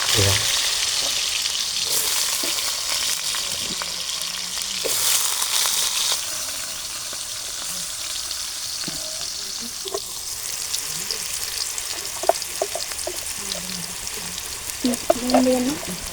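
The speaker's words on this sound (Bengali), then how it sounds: "এখন কয়রাতে তেল দিব, সুন্দর করে ভাজতে হবে।" Katla fish sizzling in oil in a wok, a steady dense crackle running throughout with occasional utensil clinks and faint bits of talk, close and moderately loud.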